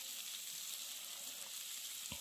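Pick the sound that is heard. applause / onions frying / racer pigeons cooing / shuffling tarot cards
onions frying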